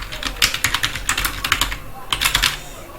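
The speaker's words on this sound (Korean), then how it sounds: "백스페이스 키 눌러서 이렇게 다 지우셔야 됩니다" A computer keyboard key pressed repeatedly to delete text, heard as a quick run of close, crisp clicks, a short pause, then another brief burst of taps.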